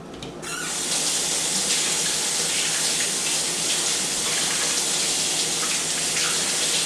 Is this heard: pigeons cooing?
no